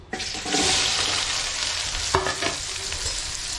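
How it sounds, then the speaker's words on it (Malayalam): Chopped onions and green chillies sizzle and crackle in hot oil, stirred in a pan for a vegetable biryani, a steady close frying hiss with a couple of sharp scraping stirs. "നന്നായിട്ടൊന്ന് വഴറ്റി കൊടുക്കണം"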